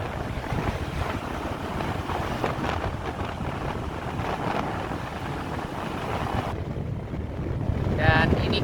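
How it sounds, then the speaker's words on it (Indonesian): Steady breeze buffeting the microphone beside a lake in West Sumatra, a continuous rushing wind roar with faint lapping water and distant indistinct voices. "Angin juga sepoi-sepoi ini bikin ngantuk."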